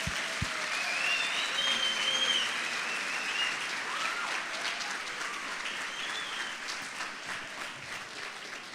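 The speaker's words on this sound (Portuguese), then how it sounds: "aplaudimos também" A church congregation breaks into steady applause, a dense wash of clapping that stays fairly even before easing slightly toward the end, with a few whoops over it.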